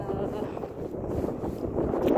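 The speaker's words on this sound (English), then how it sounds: "It's more windy today" Steady low rumbling wind buffets the microphone outdoors, a continuous blustery roar without distinct gusts.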